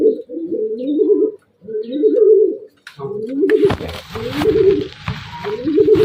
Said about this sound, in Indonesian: ini Marco burung hasil ternakan sendiri, burung baru rampas ya